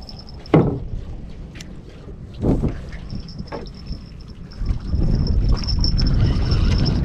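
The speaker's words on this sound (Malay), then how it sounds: "boleh tahan angin malam ni" Strong night wind blows over a fishing raft on water, with steady buffeting rush, occasional knocks and splashy thumps against the raft, and a faint high tone in the background, growing louder toward the end.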